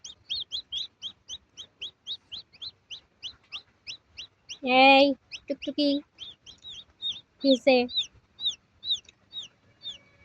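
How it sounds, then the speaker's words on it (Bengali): A hen on a farm gives several loud, close clucks among a constant rhythm of high, rapid peeping from baby chicks, with a brief spoken word or two in between. "আপনার খামারে দুটা বাচ্চা মুরগি এসে পড়লো"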